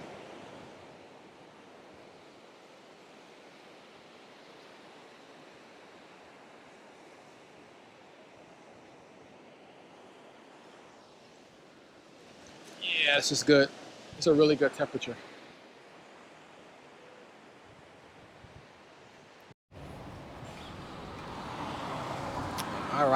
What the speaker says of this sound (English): Oh man, these waves are nice.